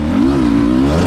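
A dirt bike engine revs loud and close during a race-course lap at a pro enduro event, one sustained throaty pull whose pitch rises and dips slightly, with no voices.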